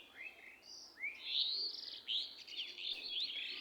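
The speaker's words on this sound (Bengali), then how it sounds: "পাখির কিচিরমিচির শব্দ তো শুনলাম" Small birds chirp and tweet in a lively, overlapping series of quick high calls, moderately close and with no talking.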